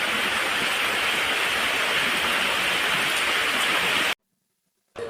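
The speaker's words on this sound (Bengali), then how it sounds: "দেখো বৃষ্টি হতেছে, কিরকম বৃষ্টি" Heavy rain pours in a dense, steady roar for about four seconds, then cuts out abruptly before briefly returning.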